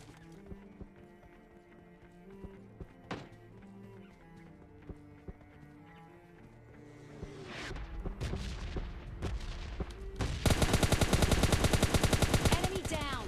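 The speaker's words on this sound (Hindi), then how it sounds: "यहाँ पे मुझे सेंट्रल रोड पे बहुत ज़्यादा फायरिंग साउंड आने लगती है" Heavy gunfire rattles through a battle royale shooter match along a central road, scattered shots at first building into dense, continuous automatic bursts that grow loud and sustained toward the end, mixed with game sounds and no speech.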